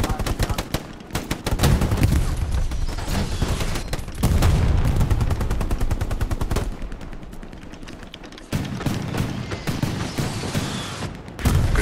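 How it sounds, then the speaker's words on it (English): Rapid bursts of gunfire crackle almost nonstop in the video game Hell Let Loose, loud and close, with short gaps between volleys and a few heavier booms. "we got a lot of gunfire up to the left."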